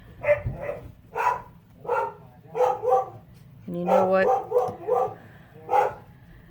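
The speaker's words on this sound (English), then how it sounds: "Those dogs are so loud" Dogs bark repeatedly in an irregular series of sharp, moderately loud barks, with a person speaking briefly among them.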